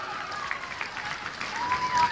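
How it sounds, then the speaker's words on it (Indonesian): Students at an Islamic school gathering in Ciamis give soft, scattered applause for a young student, fairly faint and brief, with a light crowd murmur around it. "Tepuk tangan buat Sabila nih ya"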